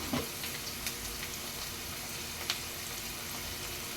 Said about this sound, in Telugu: ఒక రెండు బిర్యానీ ఆకులు ఒక రెండు లవంగాలు ఒక ఇలాంటి ఇవి వేసుకుని మంచిగా ఇవి ఎర్రగా ఫ్రై అయ్యే వరకు ఫ్రై చేసుకోవాలండి